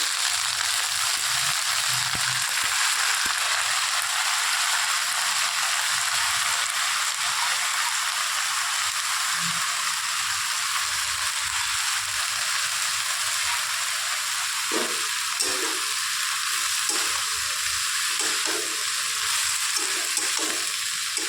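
Finely chopped red amaranth greens fry in hot oil with a loud, steady, hissing sizzle, while a spoon stirs and scrapes through the pan in uneven strokes, especially toward the end.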